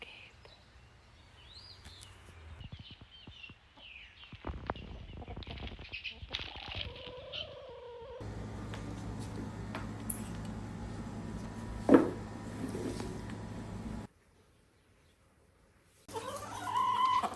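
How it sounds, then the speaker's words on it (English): Chickens clucking around a backyard garden, with a suspected young rooster among the flock; the calls come intermittently over mixed ambient noise and some nearby movement. "There's a bird I am convinced is a roo."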